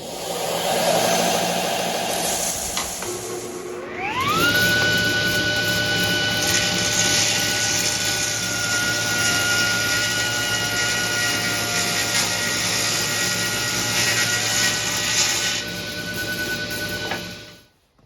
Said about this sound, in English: I'm going to put a smooth flat edge on that one so I can ride it against my table saw fence and start truing up this block.